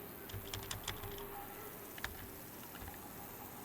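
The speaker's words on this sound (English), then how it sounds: "I'm just hitting random keys right now." Random keys tapped on a computer keyboard while playtesting a PC game, giving a few sparse, faint clicks over a steady low background hum.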